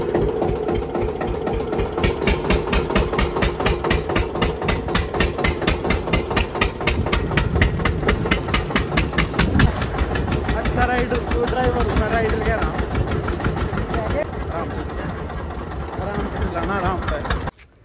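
A tractor engine chugs in a village, its rapid, even diesel knocking running loud and steady for most of the stretch before easing and cutting off at the end; a voice talks over it at times.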